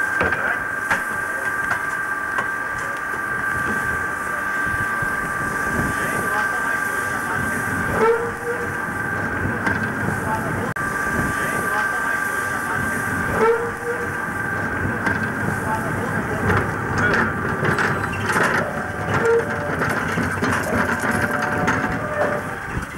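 Steam locomotives being coaled by crane at Radebeul Ost, with a steady mechanical drone, a sustained whistle-like tone and intermittent clanks and thuds from the bins recurring every few seconds, moderately loud throughout.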